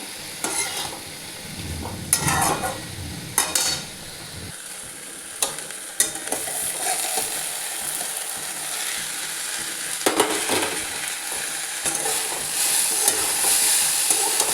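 Vegetable curry with chopped tomato frying in a pan over lowered heat, a steady sizzle and hiss with repeated sharp stirring scrapes and clinks of the spoon, close up, no talking.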